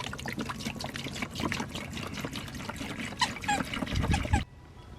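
Water pours and splashes into a bucket for a few seconds, with a soft trickle and light knocks, ending abruptly.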